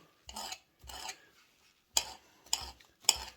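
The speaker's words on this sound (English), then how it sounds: "We've also got some nice wild garlic here, so we're going to chop that really small." Wild garlic chopped finely with a knife on a board: five sharp, close knocks in an uneven rhythm, with quiet gaps between them.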